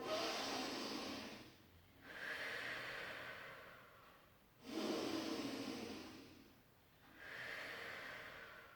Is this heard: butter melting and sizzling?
no